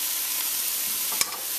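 Brussels sprouts with onion, garlic, pimento peppers and salted cod are stirred in a hot pan, giving a steady close sizzle with one sharp scrape of the utensil against the pan.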